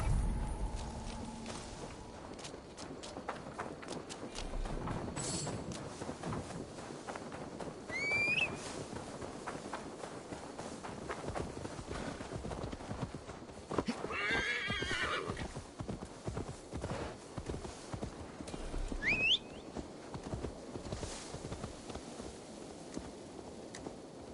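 Horse hooves clip-clop steadily through the Assassin's Creed Valhalla game world, with a couple of sharp neighs and whinnies cutting in over the background ambience.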